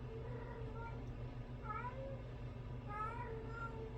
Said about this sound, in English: my cat gets so loud